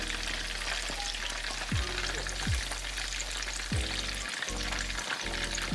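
Flipped fish skin fries in a pan with a loud, constant hiss and crackle of hot oil, close and unbroken, with a few low swooping thumps from the pan beneath it and no speech.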